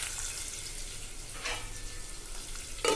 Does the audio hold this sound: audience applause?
no